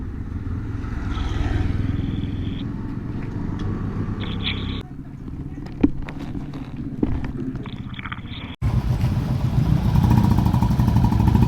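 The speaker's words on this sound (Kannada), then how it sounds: "ಶರತ್ ಪಡೋಟ್ನಾಯ್ ಅವರು ಒಂದು ಚಾಲನೆ ನೀಡ್ತಾರೆ ಈ ಬೈಕ್ ರ್ಯಾಲಿಗೆ ಬಂದಿದ್ದಾರೆ" Motorcycle engines rumble and rev nearby at a bike rally in Ujire, the noise dipping and surging as bikes pass, with a brief sharp knock partway through.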